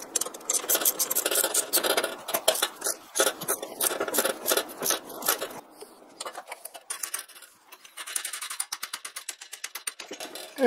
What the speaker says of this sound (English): So I got this gear puller, and I'm going to see if this will allow me to get it off.